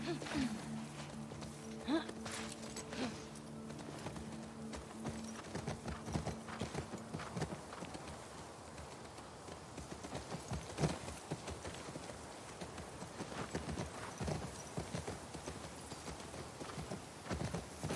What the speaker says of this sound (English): Come on, horse. Let's go.